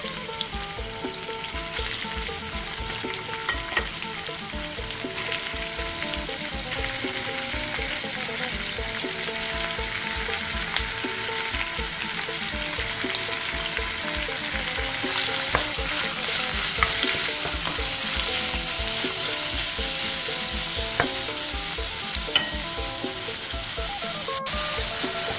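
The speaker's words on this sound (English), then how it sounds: "King mushroom stir fry with gravol." Ground pork and king mushroom stir-frying in a pan give a steady, dense sizzle that swells louder partway through, with occasional scrapes and clicks of stirring and no voices.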